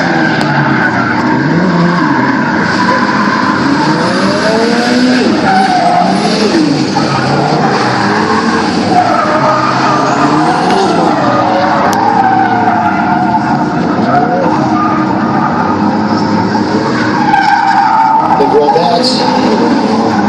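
Pro drift cars skid around the track in a competition session, with loud sustained tire squeal rising and falling, engines revving hard, and a public-address voice talking underneath.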